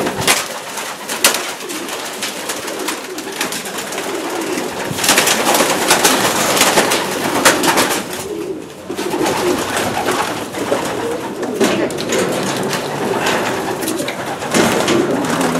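A busy loft full of pigeons, with steady cooing and fluttering mixed with scattered bird noise, loud and close throughout.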